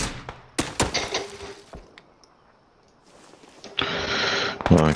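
Gunfire in PUBG arrives as several sharp, loud close shots and bursts, then a quiet stretch, then a sustained burst of automatic fire near the end.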